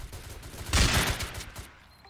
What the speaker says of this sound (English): Mythic heavy shotgun for the win, boys.